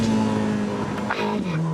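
A Ferrari 849 Testarossa engine drops through fourth, third and second gear, its loud, close drone dipping and flaring with sharp blips as each downshift lands in quick succession.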